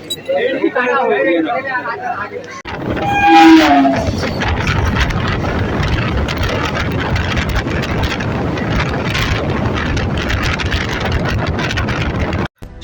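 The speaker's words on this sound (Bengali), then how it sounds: "আমাদের ট্রেনটা এখন ঢুকছে সেই যাদবপুর স্টেশনে" A suburban train from Sealdah pulls into Jadavpur station, a loud continuous rumble and rattle with a brief higher squeal early on, while crowd chatter and voices carry over it throughout.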